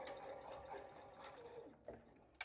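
A sewing machine stitching a curved dart on a backpack panel, a quiet rapid whirring run that slows and stops with a couple of brief clicks at the end.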